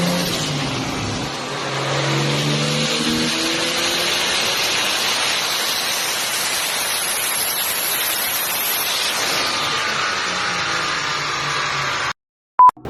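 A single-turbo Toyota Supra with a T67 dual ball bearing Precision turbo, making about 680 wheel horsepower, roars loud and close as it accelerates hard for about ten seconds, then cuts off abruptly.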